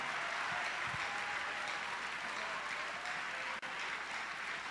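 A church congregation claps for Jesus in a sustained, dense round of applause that stays even throughout, heard from within the room, with one brief dip near the end and no voices.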